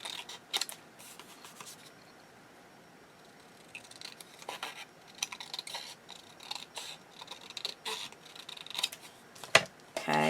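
Scissors snipping off the ends of leather while making a wallet, with sparse crisp cuts and rubbing handling noises scattered across a quiet room, a few sharper snips standing out near the end.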